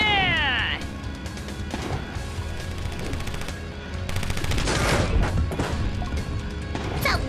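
Gunshots ring out in the motorcycle combat racing game Road Redemption, a rapid run of sharp cracks and bursts over engine roar and a clattering crash, mixed with game sounds.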